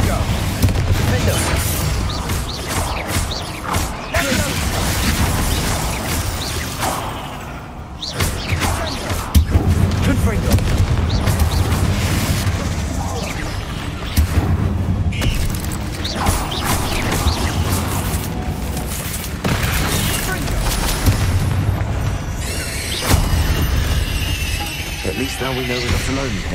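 Confringo blasting spells burst repeatedly in a Hogwarts Legacy tomb fight, loud booms and crashes over a busy mix of combat noise, with voices speaking throughout.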